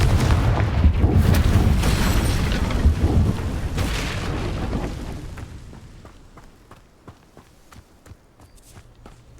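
Fire spell explosion in a Harry Potter video game, a loud booming blast with rumbling debris that gradually fades, followed by quieter scattered clicks and impacts.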